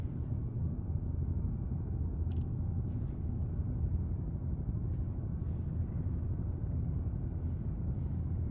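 Spaceship thrusters firing during landing-pad approach in Elite Dangerous, a steady low rumbling roar that holds evenly throughout at moderate level, with a few faint brief clicks above it.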